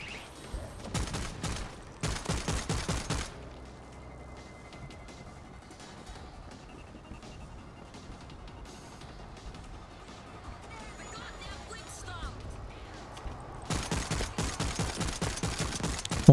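Bursts of rapid gunfire from World War Z Aftermath, with two loud automatic volleys at the start, a quieter stretch of game ambience, then another burst near the end.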